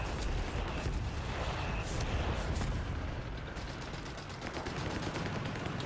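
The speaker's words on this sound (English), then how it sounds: "it will get off with one more artillery barrage" An artillery barrage pounds the battlefield in Company of Heroes 3, a dense, loud wash of overlapping shell blasts and gunfire crackle rolling on continuously, with rapid staccato bursts toward the end.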